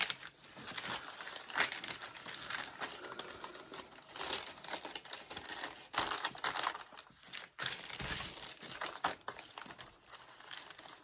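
Paper being folded in half for a small handmade journal, giving soft, close crinkling and rustling that comes in uneven bursts throughout, quiet and with no talking.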